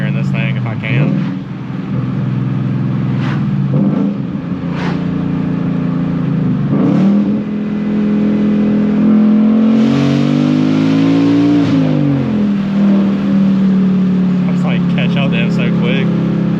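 A Ford Mustang GT accelerates hard through the gears, its loud engine note climbing in pitch, dipping at a shift, then pulling again. Brief voices come in near the start and end.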